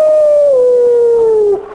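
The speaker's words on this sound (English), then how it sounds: "One of them, I was going down through alarm sounds, and it had wolves howling in the background." A single loud, sustained wolf howl from an alarm clock's alarm sound glides slowly downward in pitch, then breaks off, with faint background noise behind it.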